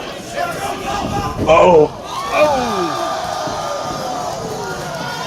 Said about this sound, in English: listen to the crowd absolutely loving this action so far